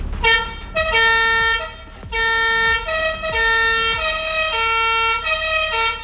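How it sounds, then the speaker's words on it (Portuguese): An air-powered Fadó siren on a fire truck blares in loud alternating two-tone wails, starting and stopping in several bursts with brief gaps between them. "E tem uma outra sirene, que é a sirene que a gente mais gosta, que é a Fadó."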